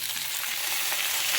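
Tomatoes with dried red chillies and small pieces of dry coconut fry in a pan, giving a steady, close, continuous sizzle with faint stirring, no voices.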